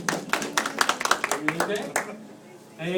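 Brief scattered clapping from a small audience greeting the next contestant in a farm animal imitation contest, irregular claps over about two seconds, fading to quiet before a voice starts speaking at the end.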